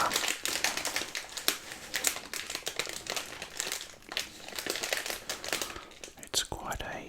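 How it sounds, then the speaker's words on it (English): KitKat chocolate wrapper crinkled and rustled close to the microphone, a dense run of sharp crackles and crumples with brief lulls, with soft whispering speech mixed in. "it's quite a crinkly packet."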